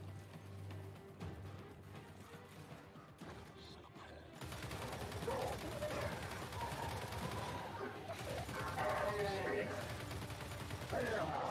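A mounted turret machine gun fires in Gears 5, a dense, continuous rattling burst that starts abruptly partway through and keeps going loud to the end, with voices talking over it.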